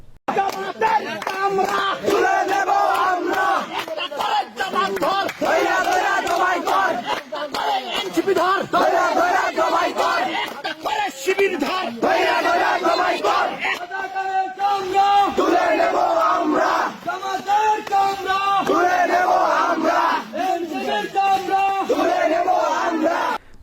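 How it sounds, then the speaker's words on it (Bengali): A crowd in Thakurgaon, Bangladesh, chants political slogans after a BNP election victory. Loud massed voices shout in rhythmic unison, rising and falling continuously close by with brief lulls. "তারা যখনই শুনেছে যে বিএনপি বিজয় হয়েছে তখন তারা স্লোগান দিয়েছে"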